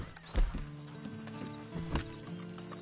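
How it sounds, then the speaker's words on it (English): A horse in the video game Red Dead Online clip-clops with a few distinct hoof strikes, a strong one early and another later, over a faint low musical bed. "And you better get on this horse."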